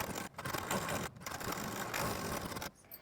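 A sewing machine stitches across the tucks of a lined blouse, running in a steady mechanical whir with two short pauses, then stopping near the end.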